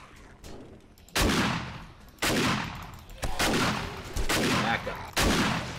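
Shotgun blasts in a first-person video game: about five loud, heavy booms, each followed by a rumbling tail and spaced roughly a second apart.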